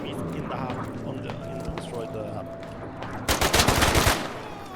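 Rapid bursts of rifle and machine-gun fire from the military shooter Squad on Unreal Engine 5, with scattered shots early and then a loud, sustained volley of gunfire over game ambience and a voice talking.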